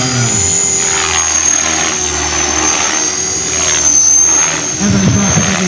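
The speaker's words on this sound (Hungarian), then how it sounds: "hogy mit nem lehet csinálni egy ilyen helikopter modellel." A model helicopter flies at a village-day model demonstration in Hungary, its engine and rotor making a loud, steady high-pitched whine that fills the clip, with crowd voices faintly beneath.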